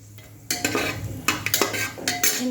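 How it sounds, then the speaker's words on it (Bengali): Green chillies crackle and splutter in hot oil in a pan, with bursts of sizzling and metal scraping as the food is stirred, close and fairly loud. "যেমন কাঁচা লঙ্কাটাও ফেটে যায় তেলে দিলে"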